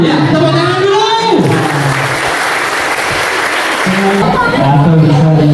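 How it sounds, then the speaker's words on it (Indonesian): New students at a school orientation clap together in a loud, dense burst of applause, with voices calling out over the clapping throughout. "Ya, tepuk tangan dulu."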